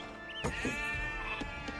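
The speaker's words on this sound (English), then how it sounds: "So how much food do these sheep generate per second?" A sheep bleats in Age of Empires II: Definitive Edition, a faint, short wavering call over quiet game ambience.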